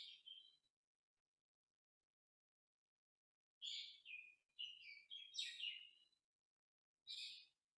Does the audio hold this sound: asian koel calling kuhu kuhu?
yes